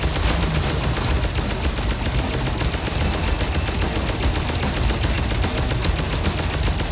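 Continuous rapid gunfire from Alien Shooter, a loud, unbroken machine-gun stream of shots rattling without pause throughout, with no voices.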